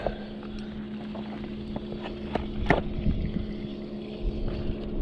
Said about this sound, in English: And there is a boat.